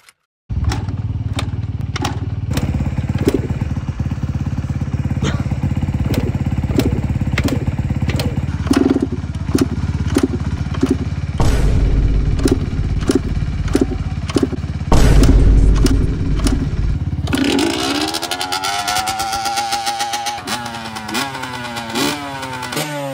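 A Yamaha YZ125 two-stroke dirt bike engine runs loud and close, revving repeatedly in sharp bursts with a crackling idle between blips, then winding up in rising and falling pitch sweeps near the end.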